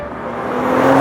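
Cadillac CT4-V Blackwing V6 engine building steadily in a loud, close, continuous drone that rises slightly toward the end, with no one talking.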